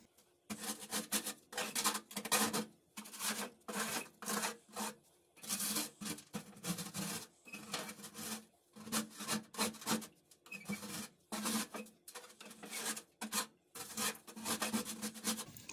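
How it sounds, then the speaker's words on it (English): Baking soda and baked-on grease being scraped out of an oven after an oven fire, heard as steady, rhythmic rasping strokes, close and fairly quiet, repeating for about sixteen seconds with no talking. "That is scraping up beautifully."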